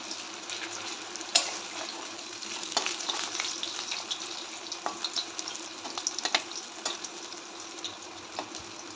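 Jackfruit seeds fry in oil for a curry with a steady, close sizzle, dotted with small pops and crackles and occasional sharper spits, and no one talking.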